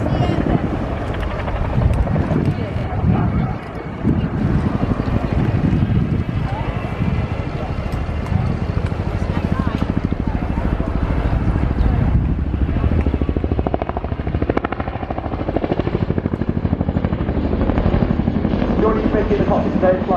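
Heavy 15-ton Chinook helicopter flying a display routine at an air show, a loud continuous rotor thump and turbine roar that stays steady throughout, with a commentator's voice over it.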